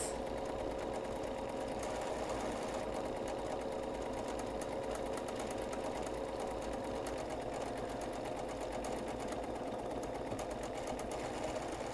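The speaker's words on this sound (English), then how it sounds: "A key to decorative stitching is to sew at not full speed, at a consistent speed." A sewing machine runs steadily through decorative stitching at a moderate, even speed, its rapid needle hum continuous and fairly quiet throughout.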